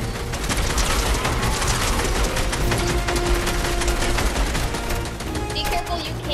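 Rapid bursts of video game gunfire, dense overlapping shots and automatic fire rattling steadily throughout at a loud level, with players' voices mixed in.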